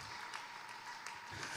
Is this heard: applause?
yes